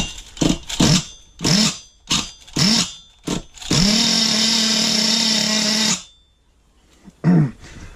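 A small sh .28 engine with a hanging clutch shoe sputters through several short bursts, then runs at a loud, steady buzz for about two seconds before cutting out, with one more brief pop afterward.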